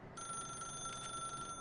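Telephone ringing in The Stanley Parable video game: a steady electronic bell tone sounds continuously for over a second, fairly quiet and alone with no voices.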